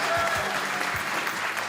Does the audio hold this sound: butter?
no